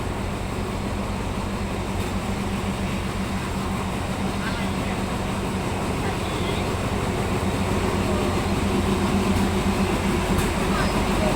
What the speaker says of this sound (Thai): อันนี้เป็นขบวนสามหกแปดนะครับที่ผมนั่งมานะครับ